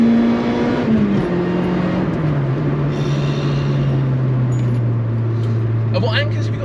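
Supercharged Honda Prelude track car engine running nearby, a steady drone whose pitch slowly sinks as revs fall, with voices talking over it.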